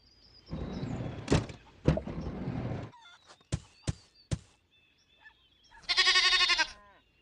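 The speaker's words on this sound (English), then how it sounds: "Goat." A goat in a kids' first-animals game gives a noisy rustle and a few knocks, then a single loud, wavering bleat close by.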